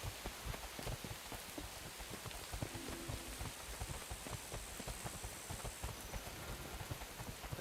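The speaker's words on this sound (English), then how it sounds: "Oh, it's raining!" Rain in the video game Guild Wars 2, a dense steady patter of drops hitting surfaces throughout, loud and continuous with no pauses.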